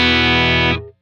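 A bass guitar played dry through a Line 6 effects unit rings as one sustained, buzzy, harmonically rich note that stops abruptly after about three quarters of a second.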